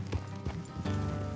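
Horse hooves clip-clopping along a road in Red Dead Redemption 2, several quick close hoofbeats over a low rumbling game soundscape.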